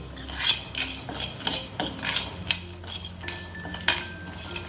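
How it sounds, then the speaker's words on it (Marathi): Sesame, coriander and cumin seeds dry roasted in a pan without oil, stirred with a metal utensil that scrapes and clinks against the pan in a series of close, uneven strokes, with no talking. "थोडंसं जिरं टाकते आणि हे हलकं भाजून घेते"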